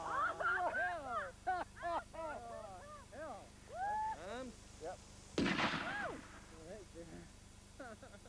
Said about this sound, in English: Then came the first experiments with explosives.